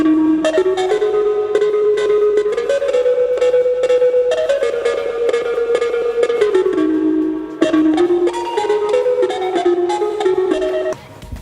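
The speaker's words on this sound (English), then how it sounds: "The last thing I did was I took a bell from the Moog." A filtered Moog synth bell melody rings out with a long reverb tail, notes overlapping in a dense wash before a brief drop and restart.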